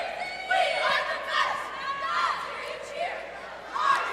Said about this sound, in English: you can hear the crowd going once they do hit